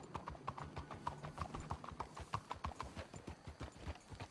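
Horses' hooves clip-clop steadily in Red Dead Redemption 2, a quick, even trotting rhythm heard faintly in the background without anyone speaking.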